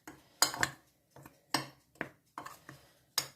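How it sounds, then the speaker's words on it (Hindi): A spoon stirs dry ingredients and baking soda in a bowl for banana bread, making a string of sharp, close clinks and scrapes against the bowl in an uneven rhythm, with short quiet gaps between strokes. "ये ऐड करने के बाद हम इसे एक स्पून की मदद से हिला लेंगे"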